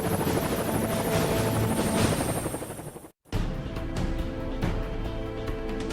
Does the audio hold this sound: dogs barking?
no